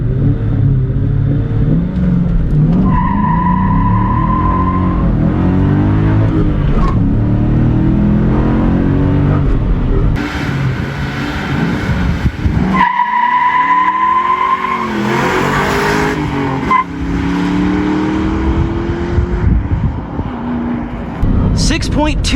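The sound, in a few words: 1997 Ford Mustang Cobra SN95 accelerating 0-60 mph, tire squeal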